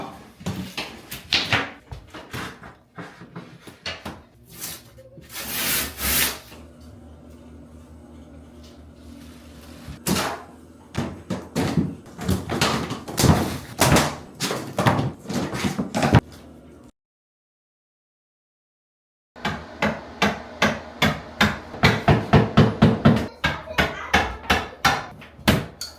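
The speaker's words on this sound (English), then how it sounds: "we started removing the tiles from the wall" Bathroom wall tiles being removed during a DIY makeover: irregular sharp knocks, scrapes and cracking thuds, close by, with a silent gap partway through before the banging and prying resume.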